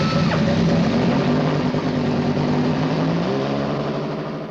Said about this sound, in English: A racing car is born when the engine bursts into life for the first time.